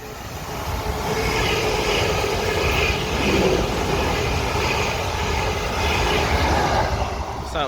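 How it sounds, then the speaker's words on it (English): A train passes through Raynes Park station on the South Western Main Line, a loud continuous rumble and rolling clatter of wheels that holds steady for several seconds before easing slightly at the end. "I think we have another train coming"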